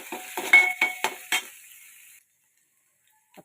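Garlic, coriander and green chili paste sautéed in a little oil gives a handful of sharp stirring clinks and scrapes against the pan over a faint sizzle, then cuts off into silence.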